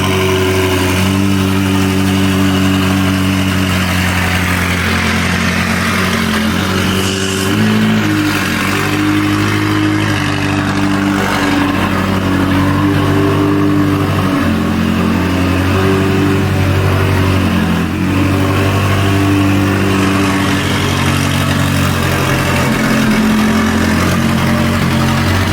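A Porsche 911 GT3 RS Weissach engine runs loud and close throughout, holding a rich, sustained drone with several dips and swells as it revs.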